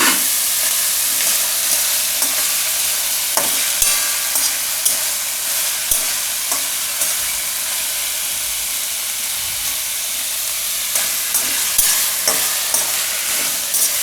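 Cashews frying and being stirred in a pan for a pumpkin paneer curry, a steady close sizzle with scattered scraping clicks of the spoon throughout, no talking.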